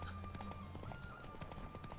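Horse hooves clip-clop at a steady trot in the open-world game Witcher 3, a rhythmic, mid-distance patter of hoofbeats under faint ambient game music, with a brief louder burst at the very end.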